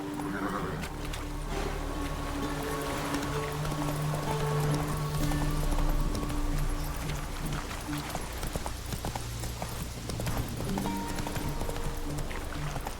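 Geralt's horse Roach galloping in The Witcher 3, a steady rapid clip-clop of hooves carrying on throughout under a dense game soundscape of music and ambience.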